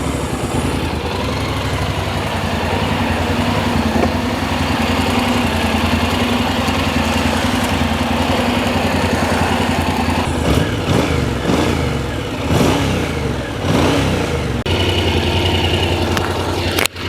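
Honda NC750X motorcycle engine running steadily at idle in neutral, a low, quiet rumble throughout, with a few short throttle blips and mechanical clatter near the end.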